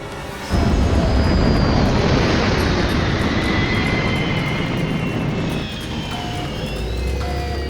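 Loud, steady roar of an airplane's engines in flight that begins abruptly after half a second and holds for several seconds, a deep rumbling drone with faint higher tones drifting in it, no voices.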